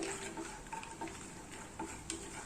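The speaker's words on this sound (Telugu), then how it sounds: "జీలకర్ర పల్లీలు కొద్దిగా లైట్గా వేగాలండి" Cumin seeds and peanuts fry lightly in oil in a kadai, a soft, close hiss with scattered taps and clicks from stirring.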